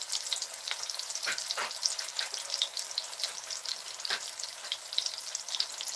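Bacon browning in a pan gives a continuous close crackling sizzle with scattered pops and spits, fairly even in loudness throughout, with no voices.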